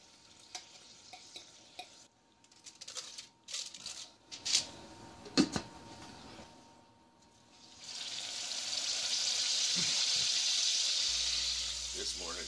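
Bursts of clattering and stirring followed by a loud, continuous hiss of bacon sizzling in a hot pan.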